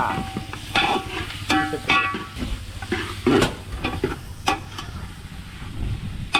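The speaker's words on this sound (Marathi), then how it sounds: "मसाल्यामध्ये चप्पल मासा टाकलाय हो, हो, तडका" Pomfret fish dropped into a spiced masala tadka sizzles and crackles in a pan, with metal clinks of stirring and scraping, busy and close, with intermittent louder bursts.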